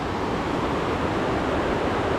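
Glacier-fed river at Eklutna Lake in Alaska, silty with ground-up rock and running high near its bank, gives a steady, dense broadband rush of fast water that holds constant and fairly close throughout, with no voices.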